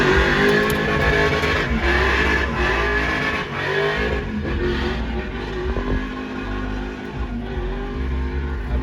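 A V8-swapped Toyota Cressida roars and revs hard through drifting flips, loud and continuous with rough, surging engine tone, tire noise and crowd din behind it.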